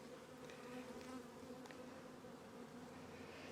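Honeybee hive humming steadily with a few drones among the workers, a dense continuous buzz close by with no voices during preparation for winter.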